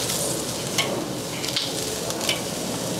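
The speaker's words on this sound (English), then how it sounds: "what you want to do is kind of just sear them for like a less than 1 or 2 minutes on each side" Chicken drumsticks searing over a Weber charcoal grill give a steady, close sizzle and crackle throughout, with faint hissing flare-ups and no talk.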